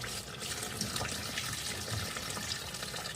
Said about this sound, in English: We just make sure we rinse and clean the jalapenos.